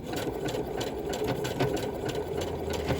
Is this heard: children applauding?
no